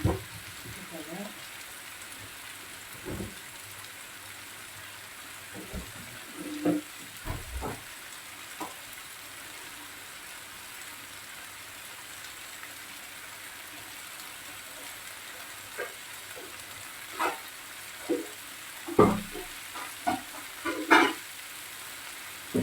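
Ratatouille vegetables for a tart cook gently in a pan over low heat, giving a soft continuous sizzle with occasional clinks and scrapes of stirring, while a person talks intermittently.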